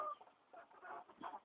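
Chickens cluck softly at close range in a backyard coop at dusk, with a few short, irregular clucks and low murmurs spread over a moment of quiet.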